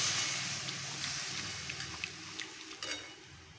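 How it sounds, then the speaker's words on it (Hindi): Masala spices and onion sizzle in a pan with about a cup of water for aloo gobhi, a loud frothy hiss that slowly fades, broken by small pops and stirring scrapes. "मसाला अच्छे से भुन रहा है"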